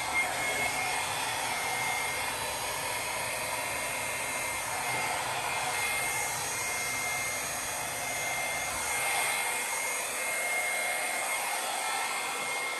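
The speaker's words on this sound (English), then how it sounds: "I'm going to use my small hair dryer and I'm going to blow this out" A small hair dryer blows steadily over poured acrylic paint, a loud, constant whirring rush of air that runs without a break and has no talking over it.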